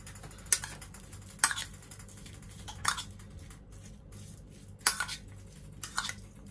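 Small spoon stirring a squid filling of tomato, onion and spring onion in a bowl, giving light irregular clinks and scrapes, five or six distinct taps over a quiet background, no talk.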